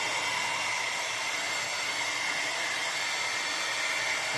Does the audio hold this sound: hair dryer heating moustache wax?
yes